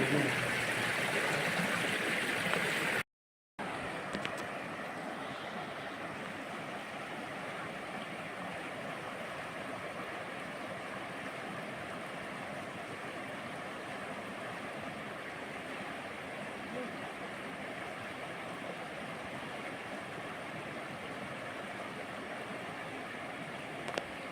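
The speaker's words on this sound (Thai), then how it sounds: "น้ำไหลแรงนะครับล้างไหลแรง" Fast-flowing stream water rushes steadily and fairly loudly at a fishing spot, a dense continuous wash that carries on through the whole stretch without pause.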